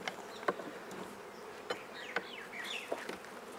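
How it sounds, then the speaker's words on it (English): Honey bees buzz continuously around an open hive during a honey harvest in Fiji, a close, dense droning swarm with occasional sharper passes and light knocks. "Sometimes you can shake a large number of bees off and then just sweep the odd ones"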